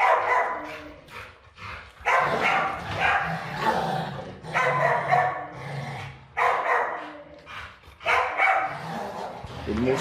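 A neutered male dog barks at another dog in a home, bursts of loud nearby barking and yips in repeated bouts with short pauses, mixed with other dog noise and some human voice.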